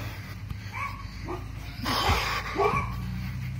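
A dog barks and whimpers outdoors, a few brief calls rising over a steady low hum.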